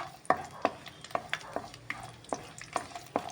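Garlic browning in a pan for a Goan chorizo chilli fry, heard as a soft sizzle beneath a run of sharp, evenly spaced scraping strokes from stirring, close and clear with no talk.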